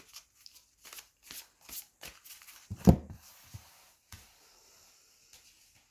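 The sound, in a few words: shuffling oracle cards before drawing three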